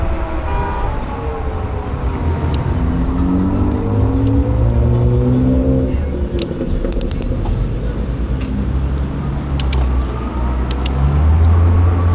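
Heavy road traffic rumbles steadily around a bicycle rider on Main Street in Santa Ana, with engines revving and passing vehicles close by, a continuous loud wash of motor noise and no talk.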